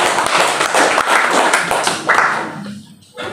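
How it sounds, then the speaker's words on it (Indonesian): A church congregation applauds during a worship service, a dense wash of clapping from many hands that holds steady and then thins out toward the end. "Beri tepuk tangan."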